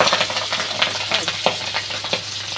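Pabda fish fry in hot oil in a wok, giving a steady sizzle with soft scraping stir sounds now and then, fairly close and with no talk over it.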